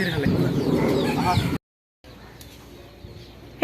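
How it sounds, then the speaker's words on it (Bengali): Chickens clucking and squawking agitatedly at close range for a moment, then an abrupt cut to silence and a faint, quieter background. "আপুরে, দেখেন মুরগি মারামারি লাগছে।"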